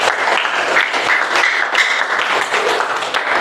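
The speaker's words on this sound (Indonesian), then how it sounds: "Oke, give applause for us. Tepuk tangan untuk kita semua." Dense applause from a group, steady clapping that fills the few seconds without a break.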